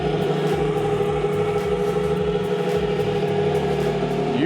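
A Lamborghini Revuelto's V12 engine runs loud and close with a steady, throbbing mechanical drone. The hybrid 2024 car makes about 1015 hp. A rhythmic low pulsing runs under the idle.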